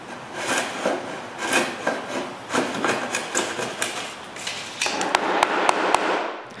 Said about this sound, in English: I need to clean the rabbet with a chisel